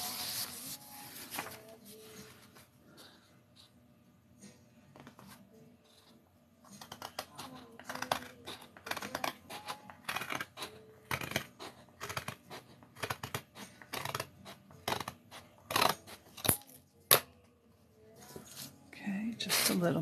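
Scissors trim a strip of paper from the top of cardstock for a handmade book, a series of crisp snipping and crinkling sounds close up, irregular and sharp, with quieter handling noise between cuts.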